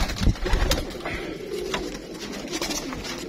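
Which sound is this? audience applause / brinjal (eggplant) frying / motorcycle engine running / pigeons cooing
pigeons cooing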